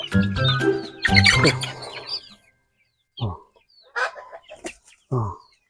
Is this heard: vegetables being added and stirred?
no